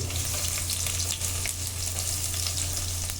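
Chopped onion fries in two tablespoons of oil in a pan, giving a loud, dense, continuous sizzle with scattered crackles and a steady low hum underneath, and no talking.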